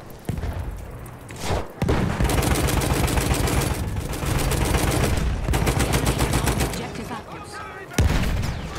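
Heavy machine gun fire in Battlefield 1 with a tank nearby, loud rapid bursts that cut off briefly and resume, mixed with booming impacts and thuds, with a voice talking faintly under the gunfire.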